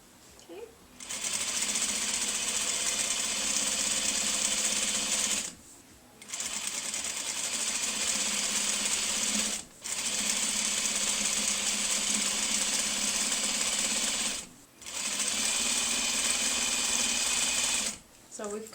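A sewing machine runs in long steady bursts while joining quilt top sections, stitching close and loud with brief pauses between seams and occasional quiet talk in the gaps.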